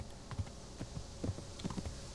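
A horse's hooves clop in the medieval video game Kingdom Come: Deliverance, a light, uneven run of soft thuds over a few seconds, fairly quiet with no talk over them.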